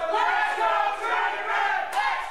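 Spectators at an independent wrestling show, Tommy Trainwreck against JT Dunn, chant together in a loud, sustained, sing-song crowd roar, with a sudden sharp crack late on.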